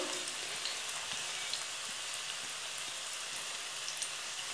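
Chopped onion sizzling in a pan with tomato paste, a steady dense crackle of frying that holds even and close throughout with no talk.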